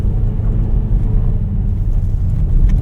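Steady low rumble and road noise from a 2025 Volkswagen Taos pushing through deep unplowed snow in a parking lot, heard from inside the cabin, constant and fairly loud with no talk.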